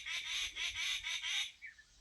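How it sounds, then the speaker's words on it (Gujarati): Birds squawk and call outdoors on a millet farm, a run of about six loud, close calls in quick succession followed by a couple of fainter chirps. "પંખીનો અવાજ પણ એકદમ શુદ્ધ આવે છે."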